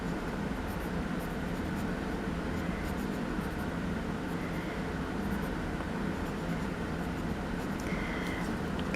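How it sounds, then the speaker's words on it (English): Pencil moving across paper to sketch a small figure for a flip book, a steady close scratching hiss that runs continuously with slight variations in stroke. "I'm just going to draw a little guy here"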